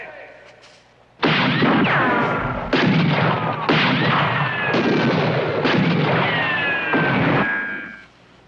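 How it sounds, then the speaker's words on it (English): Gunfire in a western action movie: dense, loud volleys of shots and ricochet whines in several sustained bursts, with a shouted voice just before they begin. "Start firing!"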